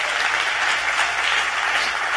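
A church congregation applauds for God, a dense, steady wash of clapping from many hands filling the room without pause.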